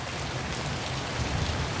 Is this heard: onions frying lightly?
no